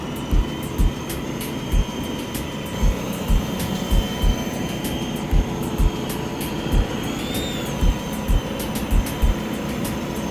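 A Walkera V370D01 flybarless RC helicopter with a stock 370 brushed motor hovers and maneuvers nearby, a steady whirring drone with a regular beat of rotor thumps and a brief rising whine.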